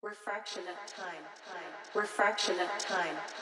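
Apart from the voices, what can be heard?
No distinct noise like a dog, phone or traffic.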